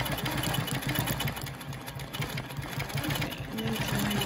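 A sewing machine stitches a quilt guided by a ruler foot, its fast steady motor whir and needle chatter running loud and continuous throughout with only slight dips.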